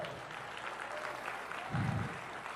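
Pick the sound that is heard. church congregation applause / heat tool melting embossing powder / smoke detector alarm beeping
church congregation applause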